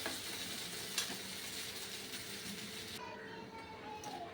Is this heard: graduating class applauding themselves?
no